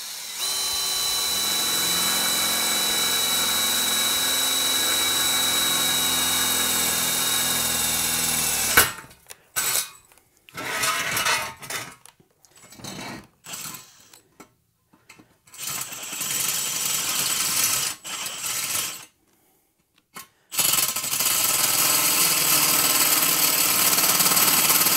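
A cheap hole saw on a power drill cuts a hole for a foundry burner: a loud continuous whining drill run, then a series of start-stop bursts separated by silences before the drilling resumes steadily.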